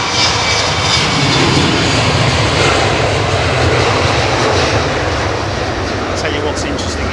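A large airliner of over 500 tonnes lands on a wet runway at London Heathrow, its engines and thrust reversers producing a loud, sustained broadband roar throughout, with a voice talking faintly underneath.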